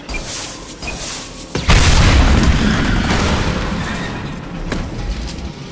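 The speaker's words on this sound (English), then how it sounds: "These are full of fuel. It's easily enough to blast through the wall." Fuel tanks blow up in the Mass Effect 2 video game: a loud, close explosion lands at about the midpoint and leaves a long rumbling roar that slowly fades, with earlier combat noise before it.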